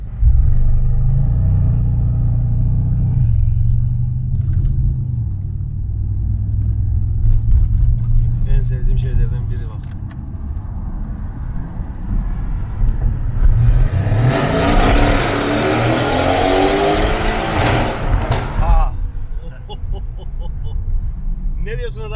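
A Mercedes C63s with Brabus package and IPE exhaust rumbles at a deep idle, then blips and revs loudly midway with a rising roar before settling back; people talk over the engine.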